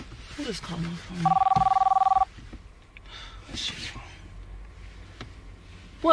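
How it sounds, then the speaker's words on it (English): A phone rings once in a short, loud electronic burst of rapid trilling pulses lasting about a second, with people talking before and after. "Who is calling my phone?"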